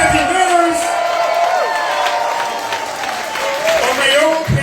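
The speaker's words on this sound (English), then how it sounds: "Please give yourselves a round of applause as well" A crowd at a New York Working Families Party political rally applauds and cheers steadily and loudly, with a voice carrying over the clapping.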